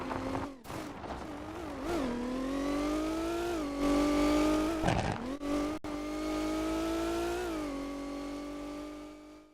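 A car engine in the video game CC2 revs and climbs in pitch, drops out briefly a few times, then holds a loud, sustained drone that rises again near the end, with no talk.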